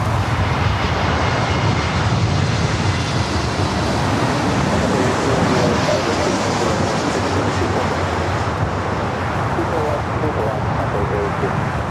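A Delta Boeing 737-900ER takes off from LAX bound for Austin, its jet engines a loud, steady broadband roar filling the whole stretch without a break.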